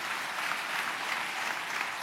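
A church congregation clapping together, a dense and even wash of applause that holds steady throughout at a moderate distance.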